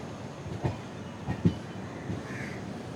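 Train 16332 Express pulling out of Ernakulam, heard from on board as a rolling rumble with a few sharp wheel clacks over the rail joints and a faint brief squeal.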